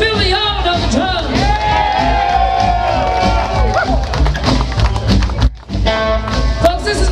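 Live concert audience at a rockabilly show cheering, whooping and clapping for the drummer, a loud dense crowd roar with music and an amplified voice talking over it.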